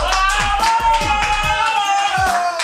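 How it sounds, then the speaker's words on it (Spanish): An audience at a Mother's Day tribute in Paraguay claps in a quick, steady rhythm over sustained tonal music, with sharp, fairly close hand claps repeating throughout. "Un aplauso."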